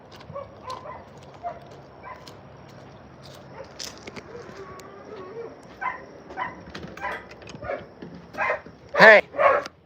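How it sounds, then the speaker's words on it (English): A dog barks and yips in short bursts amid speech, growing louder and sharper toward the end. "Who are you barking at?"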